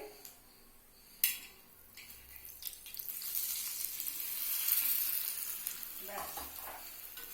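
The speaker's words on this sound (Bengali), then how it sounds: "আমি কি করছি রুটির চাটুর মধ্যে দিয়ে দিচ্ছি এইভাবে আমি হালকা হালকা করে ভেজে নেব" A vegetable paratha fries on a roti griddle, a close, steady sizzle that swells and hisses louder midway, with a sharp clatter early on as it is pressed down.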